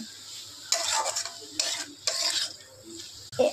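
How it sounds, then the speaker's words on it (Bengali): Spices and potatoes stir-fried together in a pan make several bursts of stirring and scraping over a low sizzle, close by, with quiet gaps between strokes and no speech. "ভালো করে মশলাগুলোকে আলুর সাথে আমরা কষিয়ে নেব যাতে মশলাগুলোর থেকে তেল ছাড়ে"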